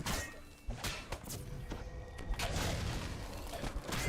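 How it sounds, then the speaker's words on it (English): Cannons firing in Dungeons & Dragons Online: a series of irregular heavy thuds and booms, some close together and some spaced apart, over a dense, busy game background. "The Caneth cannons are new."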